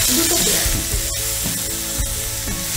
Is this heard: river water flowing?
no